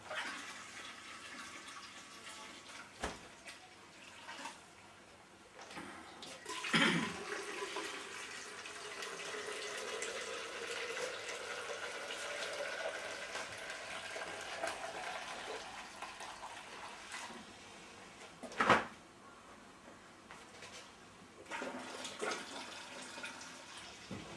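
Wort recirculated while lautering an all-grain lager pours and trickles continuously into a vessel, a soft, steady splashing flow broken by a few sharp knocks and clatters.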